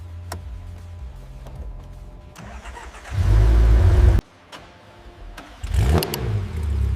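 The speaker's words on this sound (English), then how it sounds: "The engine roars to life with a loud, mechanical rasp and a puff of exhaust" A restored Porsche GT3 RS supercar engine cranks and fires, then revs hard with a loud mechanical rasp, drops back, and surges again, close and with no talking.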